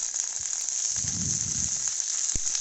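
Bottle gourd leaves with a dried fish paste fry over low heat in a pan, giving a steady, soft, even sizzle with a brief muffled stir near the middle.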